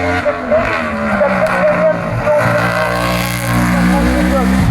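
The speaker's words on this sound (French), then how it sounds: "troisième vitesse, accélération, la voiture reste au sol" A race car's engine roars loudly and steadily at a French hill climb championship event, pitch climbing as it accelerates in third gear, with a commentator talking over the noise throughout.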